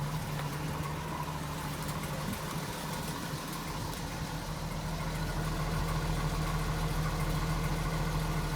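A 42-year-old pickup truck fitted with a Thrush Turbo muffler idles steadily nearby, a low, even rumble with a constant throb and no voices.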